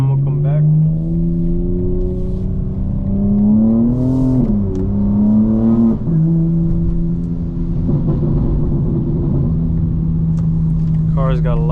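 A 2025 BMW M4 Competition xDrive accelerates on a track in pouring rain. It gives a loud, steady engine drone that rises in pitch, dips through a downshift with a brief stutter, then holds a strong even roar from close inside the car.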